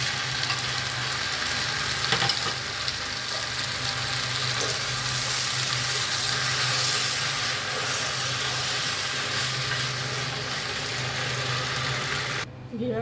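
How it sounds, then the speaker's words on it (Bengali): Pasta in a pan sizzles and hisses steadily up close as white sauce is stirred in with tomato and chicken meatballs, a continuous frying wash that cuts off abruptly near the end. "এখন আমি এর মধ্যে হোয়াইট সসটা মিশিয়ে নেব।"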